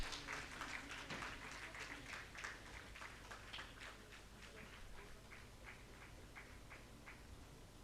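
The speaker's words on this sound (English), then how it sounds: "a big round of applause" Faint, thin applause from a small group at a conference inaugural ceremony, scattered claps thinning out as it goes on, heard over a low background hum.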